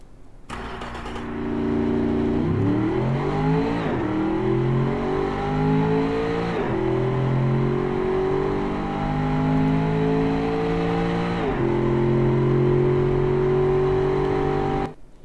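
The SGT car in a racing game starts up and accelerates hard, its engine climbing through several gear changes, each shift dropping the pitch before it rises again, loud and close, no voices.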